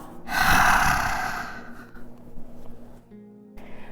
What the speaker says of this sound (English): Inhale through the nose, please. Exhale out the mouth.